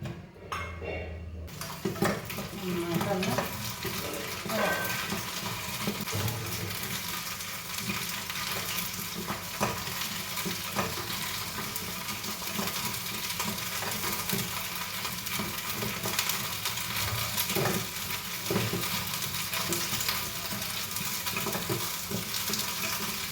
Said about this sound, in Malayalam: നമുക്ക് ഈ വെണ്ടക്കായ ഒന്ന് ഇതൊക്കെ വഴറ്റിയെടുക്കാം കേട്ടോ